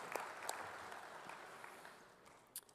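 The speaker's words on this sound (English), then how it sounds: "let's have a round of applause for Justin" Audience applause at an induction ceremony, soft and fairly distant, with a few sharper individual claps standing out as it gradually fades.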